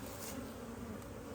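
Honey bees buzzing around an open hive during a split, a faint, steady, close drone with no voices over it.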